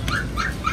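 A two-month-old Pomeranian Husky puppy whimpers at a busy pet market in Recto, Manila, giving three short, high whining cries over steady low crowd and street noise.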